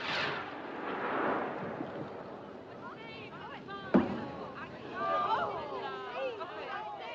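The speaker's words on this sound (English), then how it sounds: "There's a ship coming. She's firing rockets." Distress rockets launched from a ship at night in a film: a sharp whooshing crack near the middle stands out over a busy background of voices and murmuring crowd.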